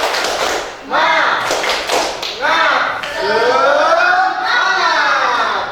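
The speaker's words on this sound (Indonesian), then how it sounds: "kita tepuk semangat terlebih dahulu. Tepuk semangat." Children's rhythmic motivational clapping (tepuk semangat) in a classroom, sharp claps and taps punctuating a group of young voices chanting along in bursts.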